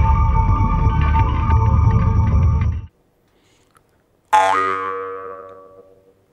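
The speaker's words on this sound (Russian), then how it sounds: "шаманы во время камланий использовали также варганы" A jaw harp, or vargan, of the kind used by shamans in ritual, plays a dense buzzing twang for about three seconds, falls silent, then sounds one struck note that rings and slowly fades. No voices.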